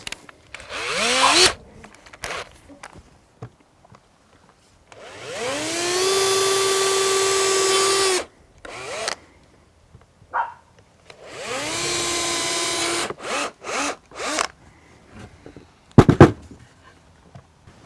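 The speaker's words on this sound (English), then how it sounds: "Then you just add a few screws to the top again." A power drill drives screws into the top of a homemade wooden insect hotel in several sustained whirring bursts, loud and close, separated by brief pauses and clatter, with no speech.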